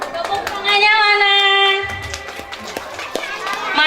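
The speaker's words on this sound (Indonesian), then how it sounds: "Tepuk tangannya mana?" Children in an audience clap briskly during a school Pancasila recitation, with scattered sharp claps under loud young voices that shout and talk over them.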